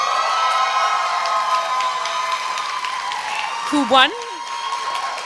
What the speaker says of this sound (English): he wins your applause today